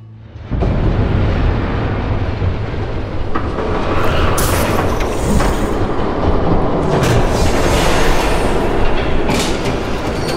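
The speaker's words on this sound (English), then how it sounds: "There's a train coming." A train rumbles past loud and close with clickety-clack wheel rhythm and metallic squeals, a sustained roar filling the whole stretch after a sudden onset.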